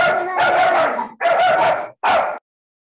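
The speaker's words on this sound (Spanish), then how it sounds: "Y también tiene un perrito, ¿no? Ahí lo escuchamos." A small dog barks three times in quick bursts, the first longer and the last short, fairly close and loud with no talking over it.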